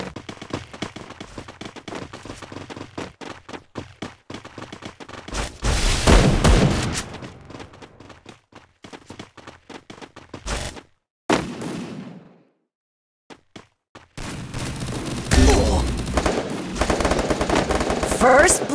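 Video game gunfire in a shooter, loud rapid automatic bursts and heavy booms repeating throughout, with short gaps of near silence between volleys.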